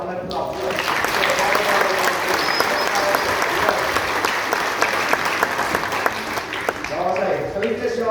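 Sustained warm applause from a church congregation at a Christmas carol service, dense and steady throughout, with a few voices and musical tones rising faintly beneath the clapping.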